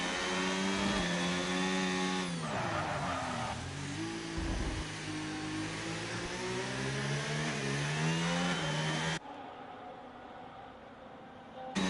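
Racing car engine in a sim racing game on the Singapore street circuit, droning loud and steady with rising and falling pitch through the gears as it accelerates out of a corner, then dropping suddenly to a quieter tone near the end.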